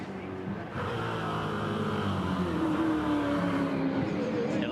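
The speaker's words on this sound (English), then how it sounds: "Here again, the front tyres squealing with understeer." A V8 touring car lapping Bathurst during the 2006 Bathurst 1000 top-ten shootout, its front tyres squealing with understeer. A loud, sustained engine drone rises as it gets going, with a whining squeal of rubber layered over it.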